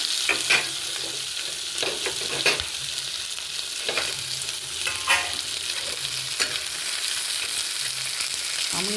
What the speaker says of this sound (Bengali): এবার টমেটো আর কাঁচা লঙ্কাটা দিয়ে দিলাম